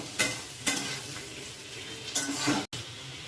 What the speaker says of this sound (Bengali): আলুগুলোকে আমি প্রথমে ভেজে নেব।